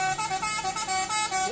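A Hino 500 FM 260 Ti truck sounding a musical multi-tone horn, a rhythmic run of short repeated honks pulsing up and down in pitch, loud and close.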